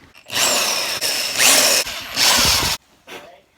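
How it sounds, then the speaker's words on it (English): A power drill pre-drills holes into a wooden desk, whining loudly in several bursts of a second or so with a rising motor pitch and short pauses between, followed by a fainter final burst. "So I just finished pre-drilling some holes."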